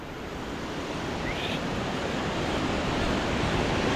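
Glacial river water from the Himalaya rushing past on the trek from Chhomrong toward Himalaya Base Camp, a steady, dense roar of flowing water with some wind, continuous and fairly loud throughout, with no voices.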